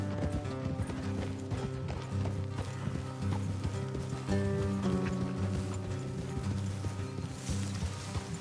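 Steady clip-clop of horse hooves on a road in a PS4 video game, ridden at a walking pace, with a brief neigh and game music and ambience layered beneath, continuous and fairly close.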